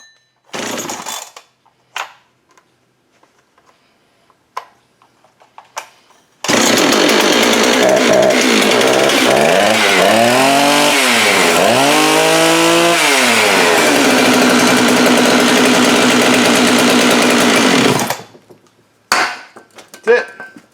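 A Husqvarna 390xp chainsaw with an idle fault and a bad intake boot is pulled over with a few sharp tugs. It then starts and roars loudly for about twelve seconds, revving up and down in the middle, before cutting out abruptly.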